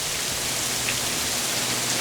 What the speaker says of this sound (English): It's like the rainiest day ever.